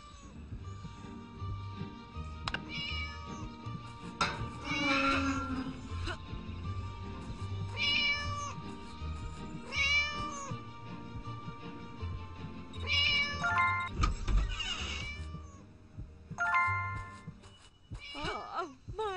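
In the Scary Teacher 3D video game a cat meows several times over a steady low game background, the cries rising and falling, near and moderately loud, with brief clatters between them.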